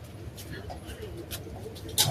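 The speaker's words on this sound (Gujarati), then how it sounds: "અહીંયા કબૂતર આવી ગયું છે" A half-white, half-grey pigeon cooing nearby, soft low coos under faint background noise, ending with a brief louder burst.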